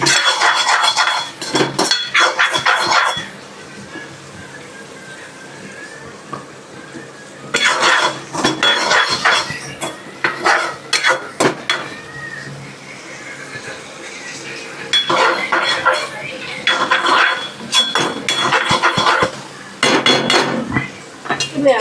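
Metal utensils clink and scrape against a pan in a home kitchen while onions are added and cooked, coming in three loud, busy bursts of rapid clatter separated by quieter stretches with faint background murmur.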